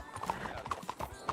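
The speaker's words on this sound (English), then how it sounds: "Secured you a trained horse." A horse's hooves clip-clop in a steady walking rhythm in a video game, fairly quiet, with people talking over the sound.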